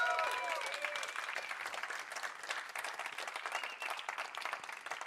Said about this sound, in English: let's hear a round of applause right now.